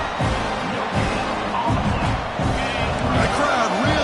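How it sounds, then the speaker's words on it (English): A stadium crowd roars steadily in a college football video game during a goal-line defensive stand, a dense, constant swell with dull thumps and commentary talk over it. "The crowd really making some noise now, trying to help out this defense to get this stop near the goal line."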